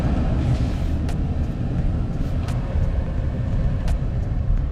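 A 2014 Nissan Frontier SL 4x4 pickup cruising on the road makes a steady low rumble of engine and road noise heard from inside the cab, with small ticks and creaks now and then.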